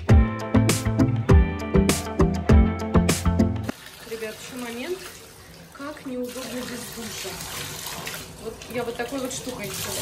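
Water runs in a home bathtub as foam is rinsed away, starting with clattering knocks and sharp taps over the flow, then settling into a softer, steady rush of water with faint background voices.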